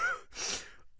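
A single sharp, breathy out-of-breath gasp from a character in an audio drama, followed by a longer exhaled breath and a short trailing breath, close and fairly quiet.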